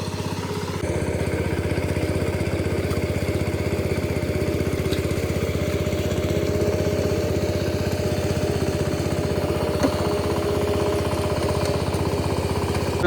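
A tractor engine runs steadily at close range through a farm field during rice transplanting in rainy weather, a continuous low chugging drone with no voices.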